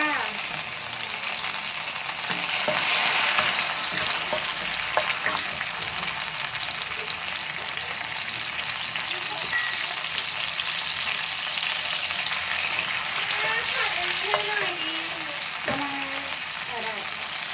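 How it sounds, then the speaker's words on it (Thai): Vegan squid stir-frying in a pan, a loud, close hiss of oil that swells early, then continues with a run of clattering spatula scrapes and clicks, with no talk. "เราจะปลาหมึกลงไปผัดค่ะ"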